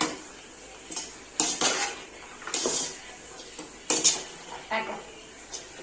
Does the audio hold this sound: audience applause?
no